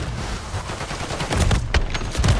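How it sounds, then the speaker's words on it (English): Bursts of RPK machine-gun fire in Modern Warfare 3 multiplayer, rapid loud volleys repeating through the whole moment, up close with no talk. "Yo, this RPK is actually insane."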